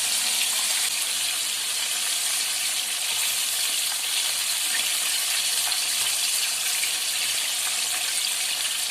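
Karahi-cut chicken deep-frying KFC style in hot oil, a steady, loud, broadband sizzle and crackle that fills the whole stretch without pause, with no voices.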